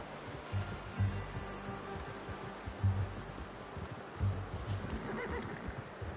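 Horse sounds in the video game Red Dead Redemption 2, with low snorts and shifting hooves, repeating in short bursts over a steady ambient outdoor background; no talking.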